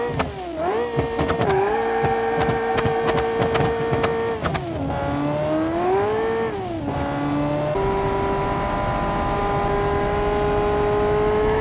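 Gobble's GTO, a race car in the Automation game, roars along with its engine revving up and down through gear changes, then settles into a steady loud drone, with no talking over it.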